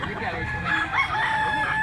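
A rooster crows loudly and close by, one drawn-out call over a busy background of other fowl and noise.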